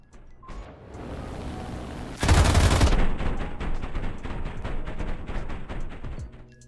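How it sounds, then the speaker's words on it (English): Rapid machine gun fire from a combat aircraft in War Thunder, drawn out in slow motion, with a dense burst of gunfire at the start, a heavy loud blast, then a steady train of repeated low shots. "the firing sound will keep playing in slow motion."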